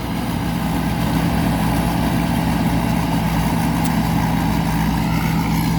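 A TAMCO combine rice harvester engine idles with a loud, steady, low diesel rumble and a constant hum, unbroken for the whole stretch.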